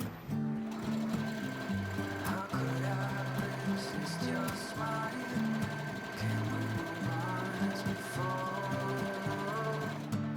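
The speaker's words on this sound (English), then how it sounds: "sew it together with the elastic, just like we did with the shoulder straps," A sewing machine zigzag-stitches a bikini strap with elastic, its motor running in steady bursts with rhythmic needle chatter and brief pauses and restarts, close and fairly loud.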